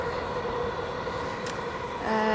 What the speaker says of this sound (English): trains again.